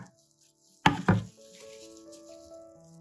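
Two sharp knife chops on onions hit a board close by, followed by a faint sustained tone and low kitchen hum.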